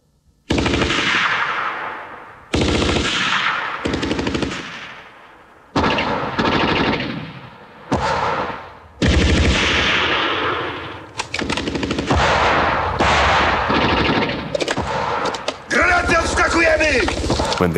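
Machine-gun and rifle fire from a Westerplatte war film battle scene, loud repeated bursts broken by short pauses, with shouted voices mixed in toward the end.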